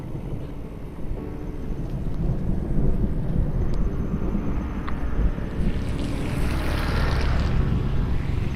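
Steady rain falls outdoors at a moderate, continuous hiss with a low rumbling undertone, building slightly in intensity toward the end; no voices.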